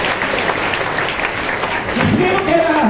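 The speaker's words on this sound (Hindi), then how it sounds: "ताली बजा के परमेश्वर का धन्यवाद" A church congregation claps together in praise, a rhythmic, moderately loud patter of many hands with voices mixed in underneath.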